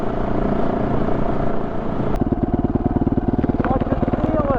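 A 2021 Yamaha WR450F dirt bike engine being revved during run-in, with a steady idle that jumps into a louder, rapidly pulsing burst of throttle partway through, close to the microphone.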